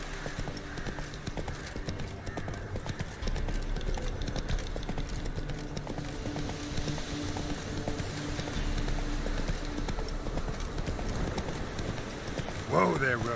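Horse hooves gallop in the video game Witcher 3, a fast continuous clip-clop over a busy game soundscape of wind and ambience, with voices briefly audible.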